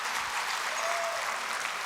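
Steady applause from an audience at a community event honouring Roy Jay and Project Clean Slate, a dense unbroken wash of many hands clapping at even loudness with no voices over it.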